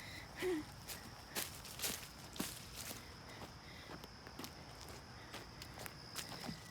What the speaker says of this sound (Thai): นี่แหละคือการเดินหาเห็ด